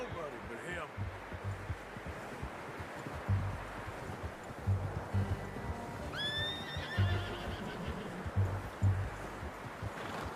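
A horse whinnies in Red Dead Redemption 2, a rising high neigh standing out over steady hoof clip-clops and low game ambience, with a voice speaking briefly alongside.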